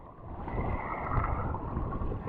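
Strong wind blows over open sea around a small boat, a continuous rough rush of air and microphone buffeting that swells slightly midway, with no one talking.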